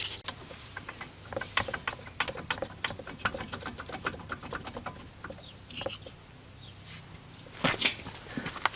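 A ratchet loosens the brake caliper bracket bolts on a 2007 Vauxhall Astra H 1.3 CDTi, giving off a fast, steady run of close clicks with short pauses and a few clunks near the end.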